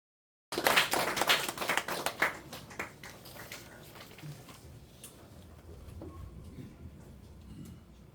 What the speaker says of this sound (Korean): 우리 박수 안 치니까.